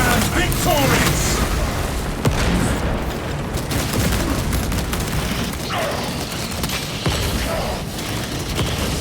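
Shock grenade blast amid Warhammer 40k Space Marine 2 combat, loud booms and rapid gunfire layered in a dense, continuous battle din with voices calling out over the noise.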